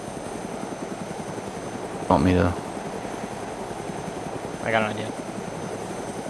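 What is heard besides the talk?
helicopter flying in a video game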